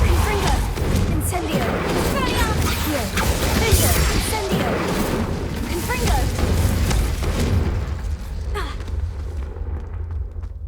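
Spell blasts from Confringo blasting curses and Incendio fire spells in Hogwarts Legacy, a dense run of booming, crashing impacts with crackling bursts, continuous and loud for most of the stretch before tailing off near the end, with a voice shouting over them.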